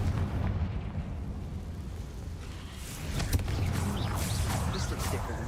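A Confringo fire spell explodes against a barricade in the video game Hogwarts Legacy, giving a sustained rumbling blast with crackling debris and a sharp burst midway, loud and continuous.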